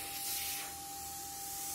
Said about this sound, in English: So here's a quick demonstration of the different spray patterns.